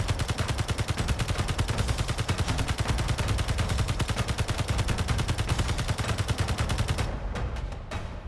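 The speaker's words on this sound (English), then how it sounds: "Oh, taking fire." Rapid automatic gunfire in the Space Engineers video game rattles in a dense, continuous burst for about seven seconds, then cuts off into a few scattered echoing pops.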